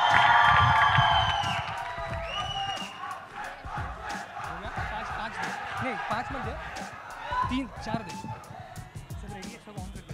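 A crowd at a film trailer launch cheers and claps, loud at first and then settling into steady applause and shouting while an announcer talks over the noise.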